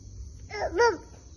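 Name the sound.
child imitating dog barking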